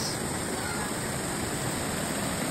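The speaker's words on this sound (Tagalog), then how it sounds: "Manami pamatian gid ang ragasa sang tubig." Rushing water at Imoy Falls in Leon, a dense, steady roar that fills the sound completely and stays loud and unbroken, with nothing else standing out.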